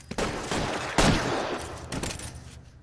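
A shootout in L.A. Noire brings loud, sharp gunshots in an irregular volley, several distinct cracks with one heavy blast near the middle, each echoing briefly before the next, with no talking over them.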